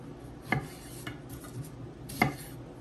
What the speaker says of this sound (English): we're just gonna cut the tomatillos in half.